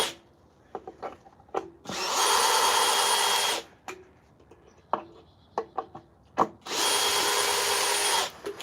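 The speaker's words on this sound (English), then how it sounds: "let me get the drill. I can undrill that" Power drill backing screws out of a chainsaw-carved wooden elk relief, two loud sustained whirring bursts of about two seconds each, separated by clunks, taps and handling knocks on the wood.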